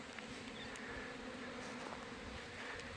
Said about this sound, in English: there was a couple hives with the bees hanging out the front door